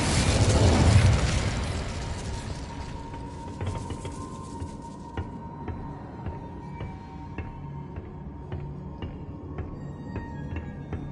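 A fire spell cast in Hogwarts Legacy, heard as a loud burst in the opening second that fades into a lingering crackle, with small sharp pops and faint tonal effects continuing behind it.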